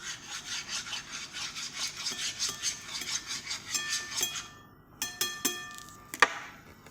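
Rapid, rhythmic scraping and rubbing as a utensil stirs and mixes food around a pan, close and steady, ending in a few sharp clinks and taps.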